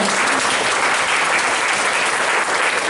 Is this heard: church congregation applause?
yes